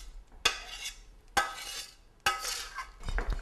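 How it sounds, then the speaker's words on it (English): Gentle stirring of a sautéed vegetable mixture into a corn dip, three distinct scraping strokes of a utensil against the bowl with soft clinks, close and clear with no talking. "And I'm just going to gently mix this all together."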